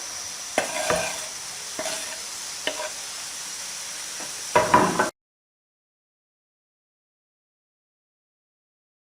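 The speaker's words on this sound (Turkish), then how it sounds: "yemeklik doğradığım biberlerimi ve sarımsaklarımı da ilave edip yine birkaç dakika kadar kavuruyorum" Chopped peppers and garlic sizzle in a pan with a few stirring scrapes and clatters for about five seconds, then silence.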